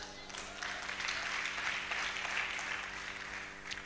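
Church congregation applauding during a sermon, a faint, distant, steady patter of many hands clapping that continues through the whole stretch.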